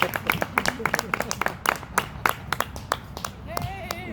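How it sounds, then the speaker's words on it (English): A comedy-night crowd at Green Oasis in Poplar Bluff claps for an autistic comedian, a brisk burst of close hand claps and applause lasting a few seconds with voices cheering over it. "Give a big round of applause for us."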